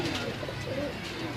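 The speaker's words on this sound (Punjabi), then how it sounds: "ਇਹ ਉਸਤਾਦ ਜੇਮਸ ਦੇ ਘਰ ਦੇ ਕਬੂਤਰ ਨੇ ਸਾਰੇ" Pigeons in Ustad James's home loft coo softly at a moderate distance, low, murmuring calls in a continuous faint bed with no clear talk.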